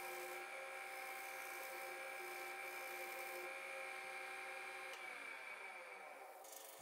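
Lathe spinning a resin elk call blank, a steady high whine with continuous scraping from the cutting tool, even and sustained, fairly quiet and alone.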